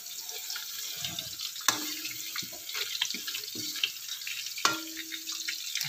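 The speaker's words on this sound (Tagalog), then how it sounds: "Tapos, ayan, ipritohin natin siya." Longganisa sausage frying in a pan after being boiled dry, a bright hiss and spatter running throughout with a few sharper clanks of utensil on pan, no talking.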